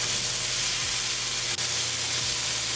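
Potatoes cook in a pan under a closed lid, producing a dense, even hiss of frying that stays loud and unbroken, with a low steady hum beneath and no talking.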